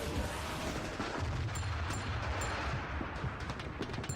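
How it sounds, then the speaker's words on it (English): Explosions in the video game Doom II, a continuous barrage of booming blasts and sharp bangs going off in the background, loud and overlapping throughout. "Why do I have to hear constant explosions going off in the background?"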